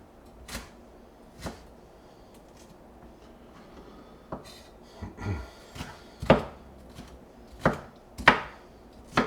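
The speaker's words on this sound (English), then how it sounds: "Now I'm going to cut this up just a little bit" A knife chops a jalapeno on a cutting board in irregular sharp knocks, about a dozen strikes spread out, close by and fairly quiet.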